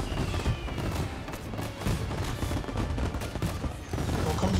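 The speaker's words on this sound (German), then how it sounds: "Wo kommen die Schüsse?" Dense, continuous gunfire from the Mafia Definitive Edition video game, with overlapping shots and booming blasts filling the whole stretch at steady loudness and no talk.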